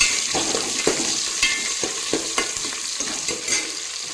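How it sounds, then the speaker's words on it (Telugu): Onions fry in hot oil with whole spices for biryani, sizzling steadily while a spoon scrapes and stirs the pan in a quick, regular rhythm, close and clear with no talking. "ఈవెన్గా ఫ్రై అయ్యాక ఆనియన్స్ వేసి వేయించుకోవాలి"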